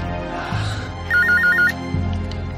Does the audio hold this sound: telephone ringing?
yes